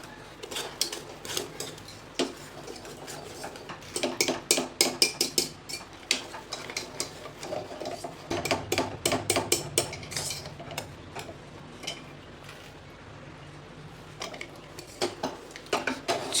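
Poha papad dough being mixed in a pot, a close, uneven series of clacks and knocks from a utensil striking and scraping the pot, denser in bursts.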